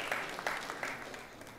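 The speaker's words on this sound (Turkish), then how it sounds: "Bir de alkış istiyorum kendisine." A conference audience at an ecotourism and sustainable tourism event applauds briefly, with a burst of clapping that fades out within about two seconds.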